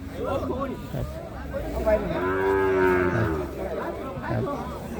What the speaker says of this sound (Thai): วัวผอมนะครับ วัวจอย